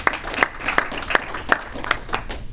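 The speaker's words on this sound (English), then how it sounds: "let's give a round of applause for you guys arriving today" A small meetup audience at a cybersecurity event claps in sparse, uneven bursts, a handful of distinct hand claps spaced across a couple of seconds, fairly close and without talk.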